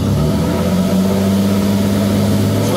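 Vortec car engine with an excess-fuel fault held at about 3000 rpm, a steady loud sustained rev with a strong low droning hum and no talk over it.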